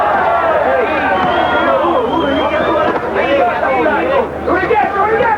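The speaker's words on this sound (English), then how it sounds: "Capacity crowd here in Saint-Tropez." A capacity crowd at a boxing arena in Saint-Tropez keeps up a loud, steady hubbub of overlapping voices and chatter, with a commentator talking over it.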